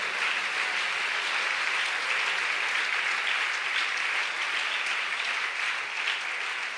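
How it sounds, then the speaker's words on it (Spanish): A church congregation claps for the Lord during a Spanish-language service, a dense, even wash of applause sustained throughout at moderate volume, with no voices over it. "Dele un aplauso al Señor ahora."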